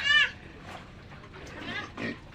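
A pig near the sea lets out one loud, close grunting squeal, followed by quieter rustling and faint talk.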